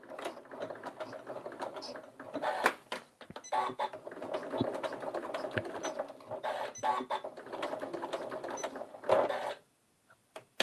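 A sewing machine works a locking stitch on pieced scrap fabric, its close mechanical chatter running in uneven bursts with clicks and pauses, stopping near the end.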